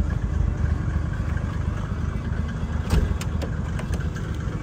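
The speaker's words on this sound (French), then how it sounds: "le moteur il tourne très très bas" A car engine with around 500,000 km on it idles very low and rough nearby, a dense steady rumble with faint clicks near the end.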